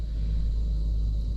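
Constant deep rumble of nearby road traffic close to a developing industrial stretch in the New Orleans area, droning on unbroken without any talking.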